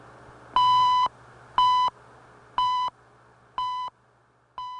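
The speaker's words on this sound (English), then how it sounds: "I don't mean those beeps necessarily" Five identical long electronic radio time signal beeps, one each second, steady and clear, each lasting about half a second over a faint hum.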